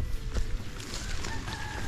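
A mother hen clucks and fusses near her chicks on a small farm, a few soft calls rising over steady low outdoor rumble.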